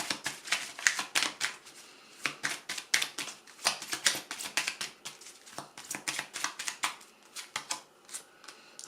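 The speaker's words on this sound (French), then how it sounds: "On va retirer une carte." Tarot cards riffle and slap in rapid, uneven bursts of crisp papery flicks, close and fairly loud, with brief pauses between shuffles and draws.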